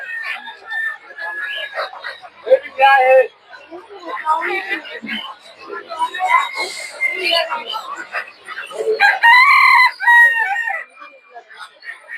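Native chickens cluck and roosters crow repeatedly at the busy Tongi poultry market, mixed with people talking nearby.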